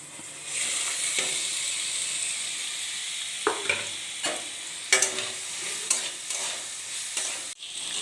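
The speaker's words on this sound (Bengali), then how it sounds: "এবার আমি আগে থেকে ধুয়ে রাখা মুগ মসুর ডালটা দিয়ে ভেজে নেব।" Moong and masoor lentils fry in hot oil in a wok with a continuous sizzling hiss, broken by spatula scrapes and taps at irregular intervals.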